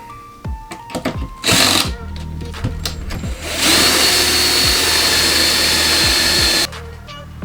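A power drill driving screws whirs in short bursts, then runs in a long, loud continuous drive before stopping abruptly, close by.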